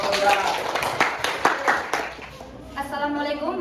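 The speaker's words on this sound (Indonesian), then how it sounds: "Ya, tepuk tangan untuk Bapak Lurah" Applause for a village head at a community gathering, a short run of clapping from a group that thins out, with a voice speaking over the end.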